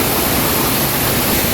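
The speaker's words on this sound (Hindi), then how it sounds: "ये झरना बहुत ऊपर से जंगल के बीच से बह रहा है।" A large waterfall pouring from high up through a forest, heard as a steady, loud, broadband roar that fills the whole moment without a break.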